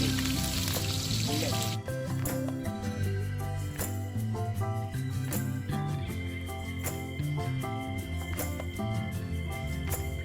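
Stuffed eggplants fry in hot oil in a pot, a bright hissing sizzle at the start that settles into steady frying with repeated sharp clicks and taps, over a tonal musical background.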